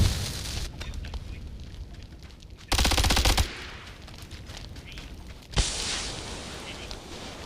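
Automatic machine gun fire in a shooter video game, rapid bursts rattling in the background, with one loud close burst near the middle and another sharp blast later, over continuous game noise and no speech.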